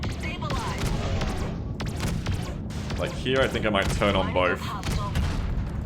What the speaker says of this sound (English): Give me that little cannon hit.